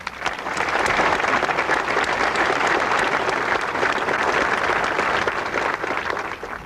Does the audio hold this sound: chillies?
no